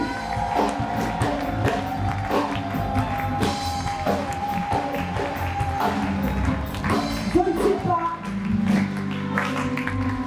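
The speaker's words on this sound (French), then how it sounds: "Je disais qu'on acclame bien Jésus." A church congregation cheers and acclaims Jesus in a steady crowd roar of whoops, clapping and voices, with continuous talk mixed throughout.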